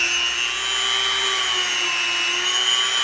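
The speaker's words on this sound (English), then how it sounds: "now we're gonna come in with our Dremel, and we're gonna use our bit, and we're gonna make the rivet" A Dremel rotary tool grinds rivet details into EVA foam, giving a steady high-pitched whine with a hissing, abrasive edge, close and continuous throughout with no talking.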